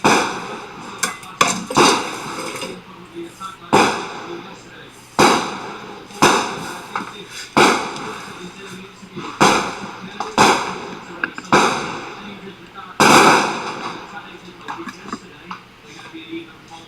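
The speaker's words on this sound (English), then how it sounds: "Still got fireworks going on the side." Fourth of July fireworks explode off to the side in a long series of sharp bangs and crackles, about a dozen bursts spaced a second or so apart, with faint talk between them.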